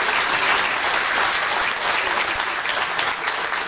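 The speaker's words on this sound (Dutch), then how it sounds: "Voor de muziek graag een enorm applaus voor orkestdirecteur." Steady, dense applause from an indoor crowd at a municipal New Year reception, honoring the orchestra director after the music, loud and continuous throughout without talking.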